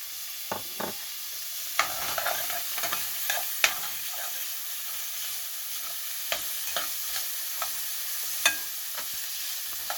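Onions and chili frying in a pan for restaurant-style butter chicken, a steady close sizzle with scattered crackles and sharper pops and scrapes of stirring throughout, no talking.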